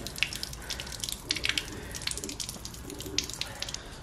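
Water draining out of a red Subaru's cooling system during an antifreeze flush, a steady trickling and splashing with scattered drips, fairly close and continuous without talk.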